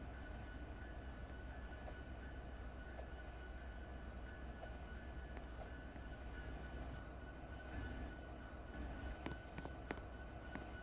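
A passenger train in a movie scene pulling away from a station, a steady low rumble and rolling noise that holds at an even level, with faint clanks over the top.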